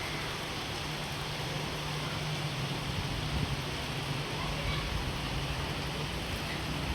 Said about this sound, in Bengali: প্রচুর বৃষ্টি পড়তেছে